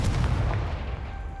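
A Confringo blasting spell explodes in Hogwarts Legacy, one close, heavy boom with a deep rumbling tail that fades over about a second.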